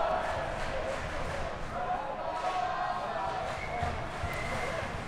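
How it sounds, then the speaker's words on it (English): A steady arena din from spectators at a college ice hockey match, UNM Lobos versus CSM Ore Diggers, carries on without a break, a low continuous crowd roar with faint scattered shouts. "Crowd getting into it, you love seeing that."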